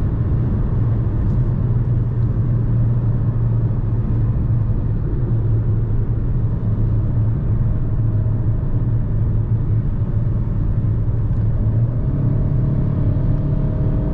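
A 2020 Jeep Renegade Longitude 1.8 Flex automatic climbs a mountain road, its engine a steady, droning low hum with constant road rumble, loud and unbroken with no talking.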